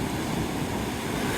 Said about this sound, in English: Big waves today.